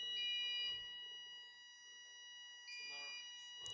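A fire alarm sounds during a technical talk on Docker, a steady piercing electronic tone holding throughout with brief louder bursts. A voice speaks faintly underneath.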